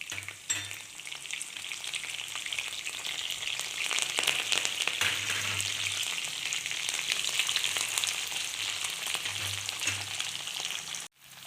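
Mustard seeds, green chillies, curry leaves and coriander frying in oil for a tempering in a pan, a steady close sizzle with crackling spatters that continues throughout, briefly cutting off near the end.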